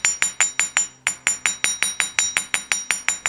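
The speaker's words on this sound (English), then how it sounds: "I'll show you some other ways that you can hammer it to give you a different look" A hammer taps the edges of wire earrings in a quick, steady series of about fifteen light, ringing metallic clinks, close and clear, with one brief pause.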